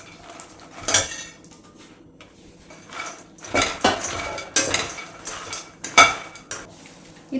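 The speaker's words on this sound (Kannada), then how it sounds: "ಈಗ ರೋಸ್ಟ್ ಮಾಡಿರೋಂಥ ಮಖಾನನ ಇದಕ್ಕೆ ಹಾಕ್ತಾ ಇದ್ದೀನಿ" Roasted makhana (fox nuts) going into a pan in a home kitchen, with a few separate bursts of metal and utensil clatter against cookware spread over several seconds and no talking.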